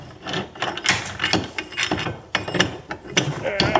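A steering linkage part being clamped in place: a busy run of metallic clicks, ratcheting knocks and rubbing scrapes, close up and irregular, with no talk.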